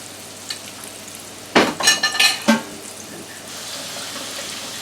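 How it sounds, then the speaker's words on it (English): Oil sizzles and crackles steadily as okra fries, with a short burst of louder spattering and clatter partway through. "I'm going to let these finish frying"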